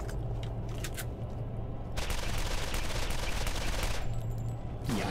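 Rapid bursts of gunfire from a newly acquired gun in the video game Borderlands, with sustained dense volleys that swell louder about midway through and continue steadily to the end, with no talk over them.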